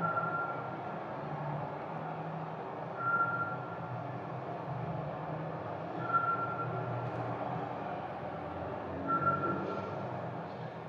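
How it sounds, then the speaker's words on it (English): Scops owl calling in Thessaloniki, Greece, during a quiet pandemic lockdown: a short, clear single tonal note repeated about every three seconds over a steady low city hum. "So this is the sound of a scops owl in Thessaloniki in Greece"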